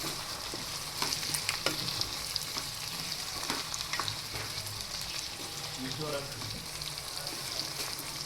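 Onions and tomatoes for matar paneer frying in oil, a dense continuous sizzle close up with repeated spatula scrapes and taps as they are stirred, steady and loud throughout.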